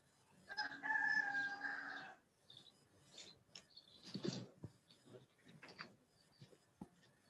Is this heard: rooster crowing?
yes